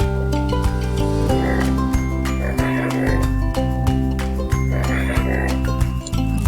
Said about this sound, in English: It's a donkey. Donkey says hee ha and sometimes ray.